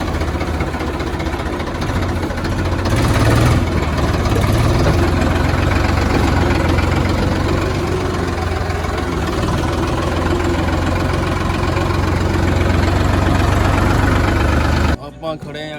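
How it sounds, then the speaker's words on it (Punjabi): A heavy tractor engine idles and chugs with a deep, steady rumble, close and loud, while someone talks over it. "ਤੇ ਤੋੜ ਦਿਆ ਟਰੈਕਟਰ ਤੇ ਚੱਲੀਏ ਫਿਰ ਚਲੌਖੰਡੇ ਆ"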